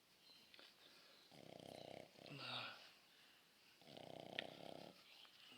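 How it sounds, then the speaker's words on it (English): A dog snores in two slow, drawn-out rasping breaths with a quieter snort between them, close and soft in a quiet room. "You're snoring."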